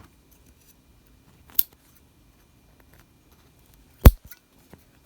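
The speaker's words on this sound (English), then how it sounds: "Step 2, we want to trim out the excess muslin" Scissors trim excess muslin fabric in two distinct crisp snips, one light and one louder, followed by a couple of faint clicks in an otherwise quiet room.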